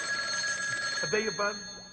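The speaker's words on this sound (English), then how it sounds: "I have to answer the phone." A telephone bell rings on through a scene in a comedy horror show, a steady high trill with a voice speaking over part of it.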